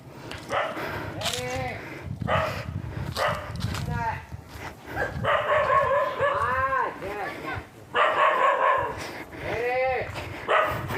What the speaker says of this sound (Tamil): கீழே நாய் மட்டும் குலைக்குது